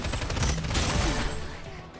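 Rapid gunfire rattles in a fast, dense burst from a video game match, moderately loud and steady for two seconds before easing off slightly, with no talk.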